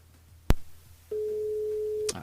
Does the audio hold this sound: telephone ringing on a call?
yes